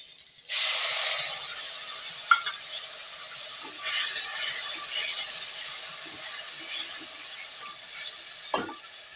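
Tomato and a ground paste of ginger, garlic, onion and chili hit hot oil in a pan for Bengali egg curry, a loud sudden sizzle that settles into a steady frying hiss with a few stirring clinks.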